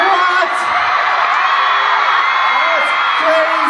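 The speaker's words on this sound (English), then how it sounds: "the man himself appeared on stage to the screams of thousands of people, mostly teenage girls" Thousands of people, mostly teenage girls, scream at a concert-style stage appearance, a dense, loud, continuous roar of high-pitched shrieks and whoops filling the hall.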